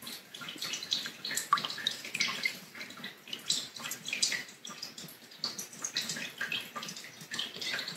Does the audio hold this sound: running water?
yes